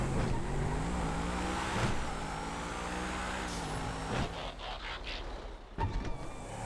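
Racing cars in the game GTA FiveM, including 2013-era models like the Dozer and Dubster, drone with a loud continuous engine whine. The pitch rises and falls as the cars shift and accelerate, and a few sharp knocks come near the end.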